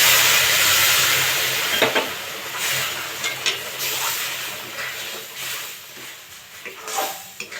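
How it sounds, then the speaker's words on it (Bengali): Milk poured into hot roasted semolina for sujir halua, giving a loud, steady hiss and sizzle with a few soft stirring scrapes and clinks along the way, no talking. "ভাজা হয়ে গেছে, আমি এবার দুধ দিয়ে দেবো।"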